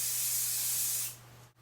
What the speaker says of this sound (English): Just spray everything down.